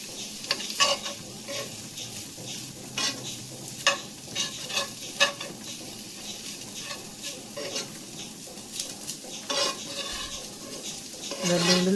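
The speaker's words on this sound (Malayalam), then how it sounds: "അതും കൂടെ ചേർത്ത് നന്നായിട്ടൊന്ന് ഇളക്കി നമ്മൾ യോജിപ്പിച്ചെടുക്കുക." Chicken is stirred into a noodle masala in a pan, a steady sizzle of frying under repeated scraping strokes and occasional clinks of a utensil against the metal, close and fairly quiet throughout.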